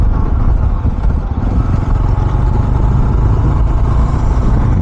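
A 2024 Jawa 42 Bobber BS6 cruiser motorcycle on the move, its engine a continuous low drone mixed with steady wind rush throughout, loud and close with no talking.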